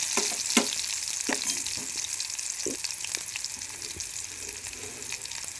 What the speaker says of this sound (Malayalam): ഈ സവാള നന്നായി വഴറ്റിയെടുക്കണം.